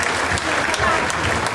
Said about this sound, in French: je vais juste vous demander de l'applaudir un petit peu